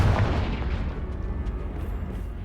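In Hogwarts Legacy, a Confringo spell explodes. A single deep, booming blast hits at the start, then trails off into a rumbling decay over the next two seconds.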